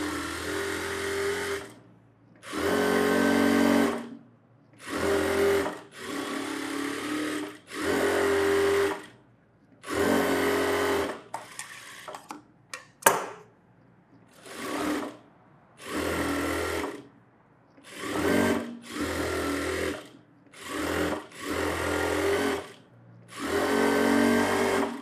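A sewing machine stitches a frock in about a dozen bursts of a few seconds each, separated by short pauses. The motor hum is steady and fairly loud, and small handling clicks fall in the gaps, with no talk.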